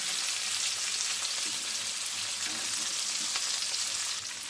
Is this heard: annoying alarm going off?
no